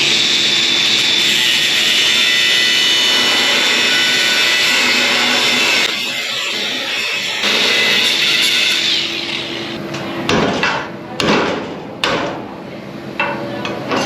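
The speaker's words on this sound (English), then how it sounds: "Wonder if I shouldn't grind a little bit off of there." A grinder loudly grinding metal on a pin, a steady high, harsh whine for several seconds that breaks off into short, uneven bursts as it is lifted and set back against the metal.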